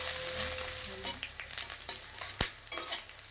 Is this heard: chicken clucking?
no